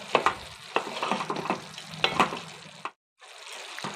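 Tomatoes stirred in a pan of ivy gourd curry on the stove, scraping and clinking spoon strokes over a soft sizzle, with a short silent gap near the end.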